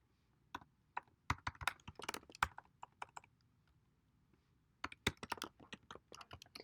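Quiet, close keystrokes on a computer keyboard in irregular bursts, clattering quickly for a couple of seconds, pausing briefly, then resuming in another run of taps.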